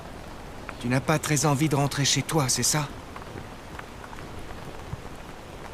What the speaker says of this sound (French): Ce n'est que de la pluie.